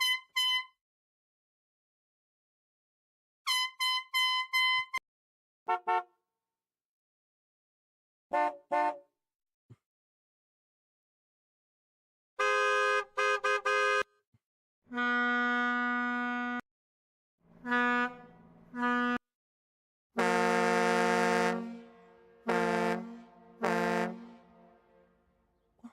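A run of different ECHL hockey goal horns plays one after another, from short high toots to long, deep, brassy blasts, each loud and separated by silent gaps.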